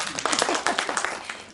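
A theatre audience breaks into scattered, brisk clapping during a stage show, individual claps distinct and moderately close, fading slightly toward the end.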